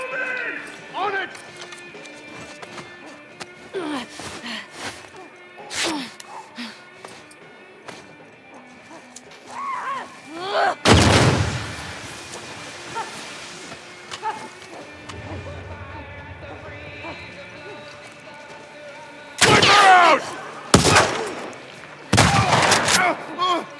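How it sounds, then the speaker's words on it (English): Shotgun blasts in The Last of Us Part II, several loud separate booms spaced through the stretch, with someone talking in between shots and game sounds underneath. "Good thing it's a shotgun."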